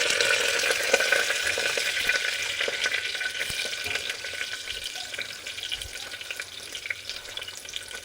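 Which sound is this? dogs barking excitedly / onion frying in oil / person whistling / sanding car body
onion frying in oil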